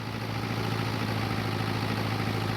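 A tractor engine in a video game chugs at a steady idle, a constant low rumble with a rhythmic throb, loud and unchanging throughout.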